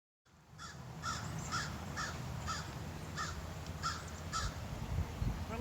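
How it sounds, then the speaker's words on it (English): A crow caws on a golf course at Dornick Hills Golf and Country Club, giving a steady run of harsh, evenly spaced calls over a faint outdoor background hiss. "that crow was laughing at me for hitting the fan and for that little punching chip shot"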